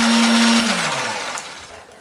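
A kitchen blender grinds kencur, garlic, chili and grilled shrimp paste, its loud whirring motor running steadily before winding down and fading as it is switched off.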